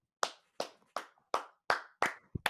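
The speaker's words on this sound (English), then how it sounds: "Let's clap it up." A lone pair of hands claps seven times in an even rhythm, each clap sharp, close and clear against silence.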